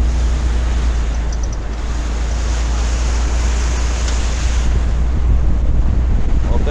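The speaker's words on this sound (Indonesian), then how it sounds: "Selain ombaknya yang kuat, pusaran yang begitu besar," Strong river rapids roar at Pelagus Rapids in Kapit, heard from a boat as a loud, continuous rush of churning water mixed with heavy wind buffeting the microphone, steady throughout with no talk.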